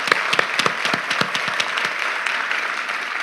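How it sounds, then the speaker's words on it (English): Audience applause at a university Three Minute Thesis event, a burst of close, sharp individual claps at first that thins into a softer, steadier patter of clapping. "yeah, you can give me applause"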